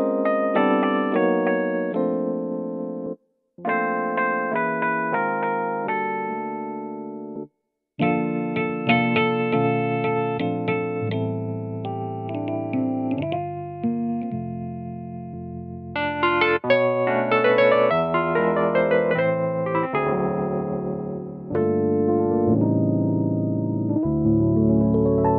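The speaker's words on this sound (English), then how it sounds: "then you get into some really juicy e-piano tones" Roland FP-E50 digital piano playing electric piano tones, a run of sustained chords and melodic phrases with a warm, effected shimmer, broken by two brief pauses, steady and fairly loud.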